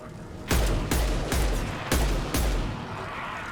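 Sci-fi weapon fire from Mass Effect 2 booms out in five heavy, loud shots at roughly half-second intervals, each ending in a rumbling tail.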